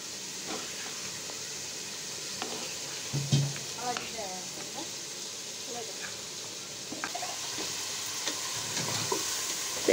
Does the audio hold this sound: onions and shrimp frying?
yes